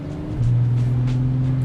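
A BMW F98 X4M with an Akrapovic slip-on exhaust, 200-cell downpipe and resonator delete idles and then rises into a steady, deep, loud engine drone, heard close with no talking.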